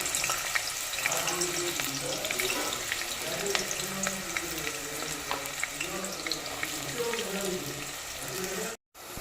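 Onions and green chillies fry in a generous amount of hot oil for a raw mango curry, producing a steady close hiss and crackle throughout, with a brief dropout near the end.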